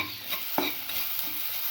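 Salt is stirred into an egg and black pepper stir fry, a soft steady sizzle with a few light scrapes of a utensil against the pan.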